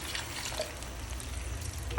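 Water is poured into chicken pieces in a pot for a Pampanga-style chicken asado, a steady soft splashing and trickling stream running for about two seconds, close by, with a brief louder gush at the end.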